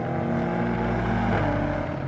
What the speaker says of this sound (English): because the engine is turbocharged, the soundtrack is a bit muted